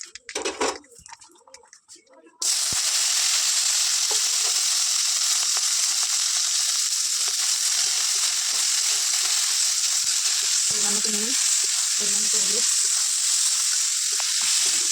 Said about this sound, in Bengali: কড়াই তেল দিয়ে দিচ্ছি এবার আলু বেগুন ভেজে নেবো